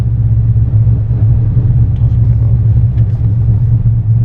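A car creeps through a parking lot in second gear, its engine giving a steady, loud, close low rumble that holds evenly throughout.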